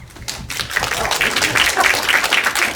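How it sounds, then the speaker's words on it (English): Audience at a film festival screening applauding the volunteers and staff, brisk close clapping rising after a brief quieter start and staying full. "A round of applause for them."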